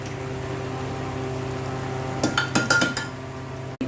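Pots and utensils clink a few times in a quick cluster while bottle gourd is put into a pressure cooker, over a steady background hum, with no speech.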